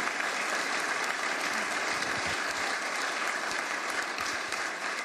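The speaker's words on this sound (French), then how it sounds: "On peut l'applaudir." Steady, dense applause from a large audience during a heritage visit by Emmanuel Macron, holding at an even level throughout with no break.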